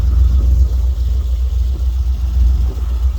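A Chevrolet Corvette C4 with its LT1 V8 running: a close, loud, deep engine rumble that stays fairly steady throughout with slight pulsing and no clear rise in pitch.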